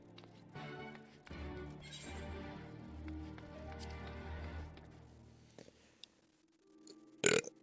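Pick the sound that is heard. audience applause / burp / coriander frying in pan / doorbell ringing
burp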